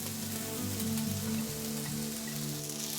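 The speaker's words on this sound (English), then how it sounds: "Non-stick pan, medium heat, a drizzle of avocado oil, carefully place in the red onions" Red onions sizzling steadily in avocado oil in a non-stick pan over medium heat, a continuous close crackle and hiss with no talk.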